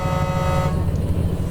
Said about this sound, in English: We've got a special little horn honk here for you